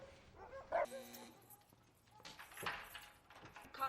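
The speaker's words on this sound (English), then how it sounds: "Dogs." Dogs bark in the Terminator 3 video game, a few faint, distant yelps and barks spread across a quiet, noisy game ambience.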